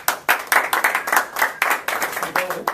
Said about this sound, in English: A little hand of applause for Ference.